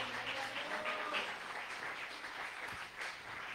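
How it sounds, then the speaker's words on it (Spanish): A church congregation applauds during a sermon, a faint, distant wash of many hands clapping steadily, low in level throughout. "¿Cuántos aplauden al Señor?"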